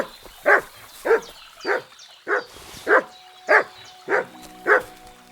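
A dog barks in Kingdom Come Deliverance II, eight evenly spaced single barks about half a second apart, close and clear over a quiet game background.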